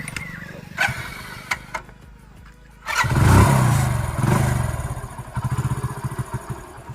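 A Hero Passion Pro motorcycle, with its carburetor swapped, is self-started after a few faint clicks, then the engine catches and settles into a steady, close idle that runs to the end.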